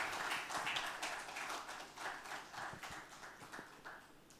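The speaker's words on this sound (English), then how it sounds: "So a big round of applause for all our speakers, please." Faint, distant audience applause for conference speakers at a marketing event, a steady patter of many hands clapping that holds for several seconds without voices.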